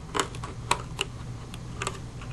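A hobby blade cuts covering film over the oval aileron servo access hole on a 3DHS 41-inch Edge model airplane wing, a few faint close ticking and scraping clicks.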